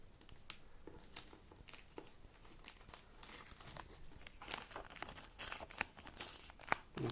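Newspaper wrapping around a UMI X1 Pro phone package crinkles and tears as it is pulled open by hand, a steady close rustle with sharper crunches and rips building toward the end, with no talk.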